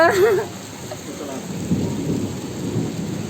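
Rain falling with a rumble of thunder outdoors, a steady wash of rainfall after a brief tonal sound at the start, moderately loud and continuous.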